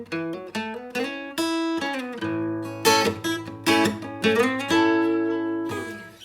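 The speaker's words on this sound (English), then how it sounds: "I'm cycling through 3 different chord voicings and playing them individually" A guitar strums and picks through a few chord shapes, each ringing briefly before the next, up close with no talking.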